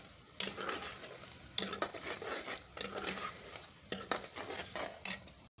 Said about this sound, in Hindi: देखिए, अभी ये हल्के हल्के ब्राउन हो चुके हैं प्याज